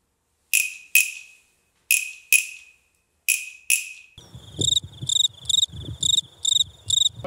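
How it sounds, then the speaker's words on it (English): A Meinl cricket percussion instrument sounds first as sharp, isolated chirps with pauses between them, then as a steady, rhythmic run of bright chirps, close and clear with no talking. "This is a cricket."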